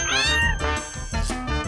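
A cat meows in a short, bright call, loud and close, followed by further mewing tones over a busy background of soft music, with no speech.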